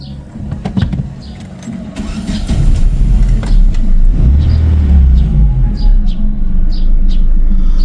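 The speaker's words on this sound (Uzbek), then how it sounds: "Mashinani zavat qilib, sizlar bilan birgalikda ovozlarni eshitamiz." A repaired car engine is started and settles into a loud, steady idle rumble after a few seconds of clatter and clicks, heard up close.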